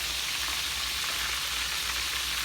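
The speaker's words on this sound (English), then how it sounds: "I'm gonna let them fry" Pieces of conch fry in hot oil with a steady, dense sizzling crackle that holds evenly throughout, close up and with no voices.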